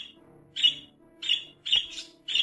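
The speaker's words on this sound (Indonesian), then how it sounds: "Kamu yang melepaskan burung beo itu?" A caged parrot gives repeated harsh, shrill squawks, four loud bursts spaced about half a second apart, close and clear against a quiet room.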